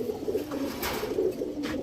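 A black male pigeon coos nearby in a few soft, low, throaty, rolling calls repeated over a couple of seconds.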